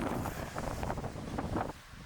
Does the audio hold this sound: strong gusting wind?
yes